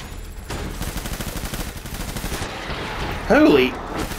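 Gunfire rings out in the video game Death Stranding as a rapid, sustained burst of shots lasting a few seconds. A short voiced exclamation follows near the end.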